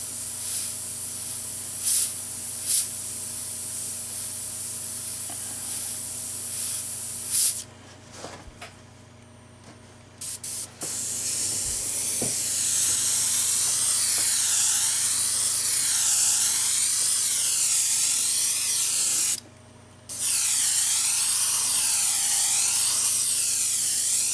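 Steady hissing spray from a Neo for Iwata airbrush spraying paint in a wide pattern, loud and close, with brief stops and restarts and a short pause near the end; no talking.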